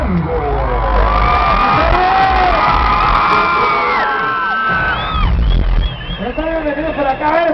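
Crowd at a radio festival concert celebrating Mexico's Bicentennial and Centennial; loud, continuous cheering, whoops and shouting fill the clip, thinning slightly near the end.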